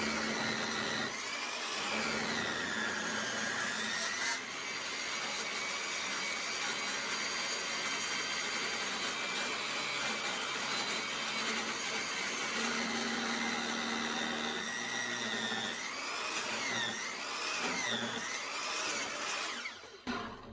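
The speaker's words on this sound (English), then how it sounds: "I'm going to cut this in real time so you can see how quick and easy this actually cuts." A saw blade cuts through 1/4 inch wall antenna mast tubing in one continuous run, a loud steady whining drone with rising and falling tones at the start and near the end before stopping.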